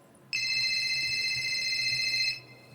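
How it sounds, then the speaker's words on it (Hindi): A phone ringtone sounds suddenly in the middle of the night, one clear, loud electronic tone that holds steady for about two seconds before cutting off. "फिर उसका फोन बजता है सडनली"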